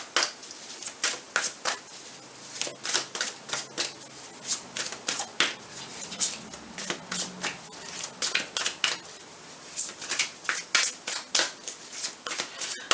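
Tarot cards are shuffled over and over in quick, crisp riffling bursts, close and fairly quiet, with no talking.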